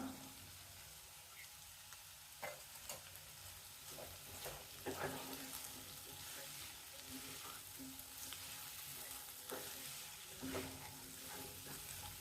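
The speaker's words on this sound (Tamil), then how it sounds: "இது கொஞ்சம் வதங்கட்டும்." Coriander and mint sizzle and fry in a pan for a vegetable brinji, a steady soft crackle with occasional stirring scrapes, faint and continuous.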